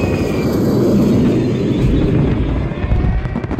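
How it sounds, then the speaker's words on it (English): A stealth bomber airstrike in Call of Duty: Modern Warfare 3 pours out as a loud, continuous low roar and rumble, a heavy wash of blasts and engine thunder that keeps going for the whole stretch with no voices over it. "Copy coordinates, bomber's coming hot."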